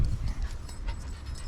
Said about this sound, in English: Luna, don't scare the wee puppy, Luna.